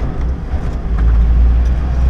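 A Ford Ranger 3.0 4x4 turbo diesel accelerates with a deep, loud, steady rumble that swells slightly as it pulls.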